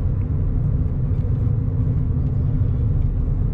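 Suzuki Hustler turbo kei car driving at speed and accelerating, a steady, loud low engine and road rumble filling the whole stretch without a break.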